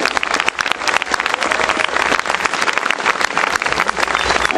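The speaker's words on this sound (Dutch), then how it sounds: "Voor een oorverdovend applaus voor Koning Crispijn de eerste." Dense, loud applause from a crowd at the Dutch national inline skating championships, senior men's A race in 2011, honoring the gold-medal national champion; steady broadband clapping fills the whole stretch without pause.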